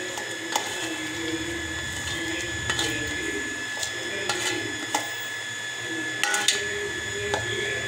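A kitchen mixer grinder jar blends garlic, a piece of ginger and coriander into a fine paste, giving a steady whirring whine with a few scattered clicks and rattles, close and unbroken by talk.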